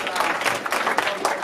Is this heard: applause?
yes